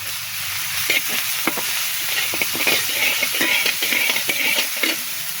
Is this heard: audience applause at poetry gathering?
no